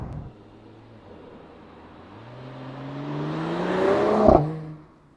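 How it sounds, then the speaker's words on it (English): Mercedes-AMG E53 Cabriolet with its top closed, accelerating hard at speed, a rising engine whine and building road roar that climbs steadily to a loud peak before easing off. "we are driving a convertible with closed top now"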